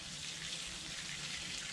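Running tap water rinses soil from the roots of a potted plant being moved into new growing media: a close, steady rushing splash with no pauses and no talking.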